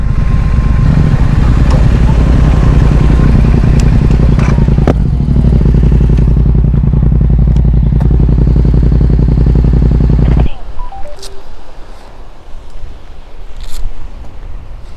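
A Triumph motorcycle engine runs steadily at idle by the beach in Southbourne, a loud, close, even rumble lasting about ten seconds before cutting off, leaving quieter outdoor ambience with faint distant sounds.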